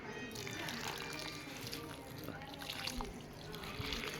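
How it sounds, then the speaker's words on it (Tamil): Water trickles and splashes steadily for several seconds as it is poured onto a newly planted betel vine, while people talk nearby. "இரு கொஞ்சம் தண்ணி ஊற்றுற"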